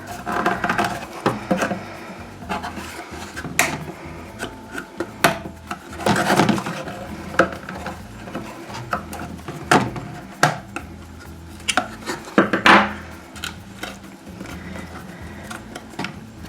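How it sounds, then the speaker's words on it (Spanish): A screwdriver pries metal staples out of a cardboard box, giving irregular scraping, creaking and snapping clicks in bursts, close and fairly loud, with no talking. "Ahora estoy usando por ejemplo un destornillador para levantar un poco la grapa y entonces comenzamos a quitarla."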